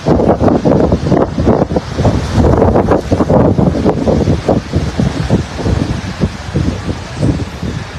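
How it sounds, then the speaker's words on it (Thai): Strong wind buffets the microphone over rough, white-capped waves at sea ahead of a storm, a loud, continuous broadband roar with surging swells and no voices. "ถ้าทะเลแบบนี้แสดงว่าลมแรงมากนะครับ"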